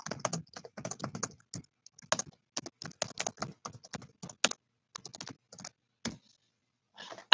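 Rapid bursts of typing on a computer keyboard, close and fairly loud, with short pauses between flurries of key clicks and no talk.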